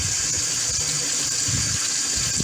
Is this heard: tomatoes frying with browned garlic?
no